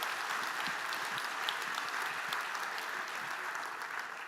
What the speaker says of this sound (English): Applause for you.